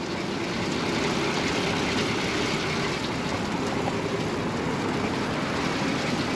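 A 1937 Ford coupe's flathead V8 idles very quietly, a soft, even, muffled hum holding steady throughout with no other sounds.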